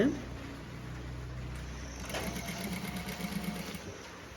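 A sewing machine runs steadily while stitching the neckline of a frock, a soft continuous mechanical whir with faint rhythmic ticking, fairly quiet and close.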